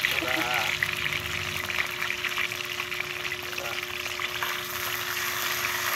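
Sardines fry in a pan with a steady, dense sizzle and crackle throughout, loud and close, with people chatting over the cooking.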